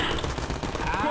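Gunfire from a gun in Garry's Mod DarkRP, a loud, dense burst of rapid automatic shots filling the entire short moment.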